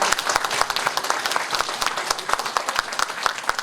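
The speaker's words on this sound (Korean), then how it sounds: "이 박수 소리에 힘입어서 더욱더 김마리아 기념사업회를 중심으로 노력하겠습니다." Steady applause fills a hall at an academic commemorative lecture, many hands clapping evenly at moderate distance without a break.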